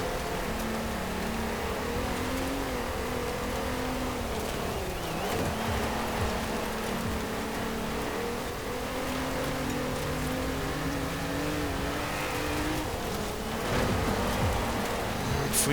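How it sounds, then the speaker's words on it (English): A naturally aspirated, high-revving V6 hot hatch racing in Forza Horizon 4 in wet weather, its steady engine drone rising and falling in pitch as it shifts, continuous and up close, with rain-like noise washing over it throughout. "It's a high revving engine as well, sounds pretty good as well."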